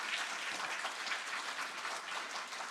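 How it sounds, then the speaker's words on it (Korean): A church congregation claps steadily for newly registered members at a Sunday worship service, a dense, even wash of many hands from start to finish with no voices over it. "우리 같이 박수로 환영하십시다."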